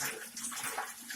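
Running water rinsing the outside of a rat aquarium, a steady close splashing wash lasting about a second with no voices.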